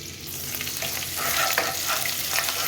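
Ginger-garlic paste frying in hot oil for a prawn biryani, a steady close sizzle with scraping stirs throughout and no voices.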